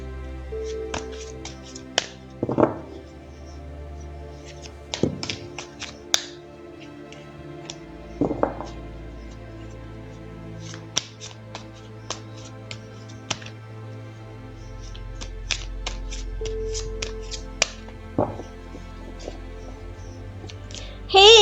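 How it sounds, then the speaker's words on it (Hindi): Tarot cards shuffled by hand on a table, making soft, scattered taps and flicks at irregular intervals, faint and close, with a few sharper clicks among them. "तो चलिए पहले कार्ड्स को शफल कर लेते हैं।"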